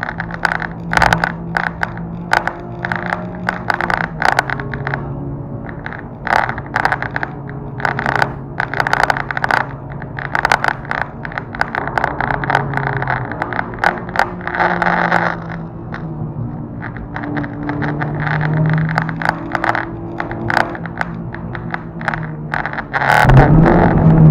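Exhaust of a Honda Civic Type R while driving, a steady engine drone with crackles and rasp heard from inside the cabin, continuous and fairly loud throughout, with a louder surge near the end.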